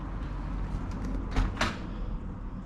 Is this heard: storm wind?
no